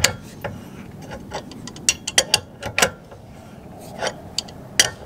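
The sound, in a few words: tightening a big bolt with a crescent wrench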